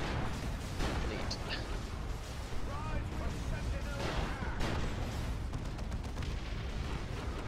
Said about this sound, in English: Yep, there's a barrage coming in.